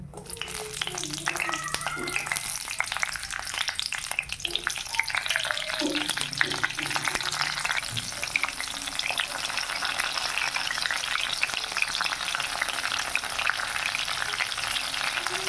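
Cumin seeds and green chillies frying in hot oil, a steady close sizzle and crackle throughout while a spoon stirs and scrapes the pan, with a few quiet knocks.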